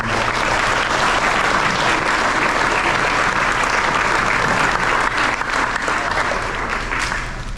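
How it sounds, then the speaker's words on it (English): An audience at an end-of-season sports awards applauds the players, loud sustained clapping filling the room and continuing steadily for several seconds. "let's give these guys a round of applause"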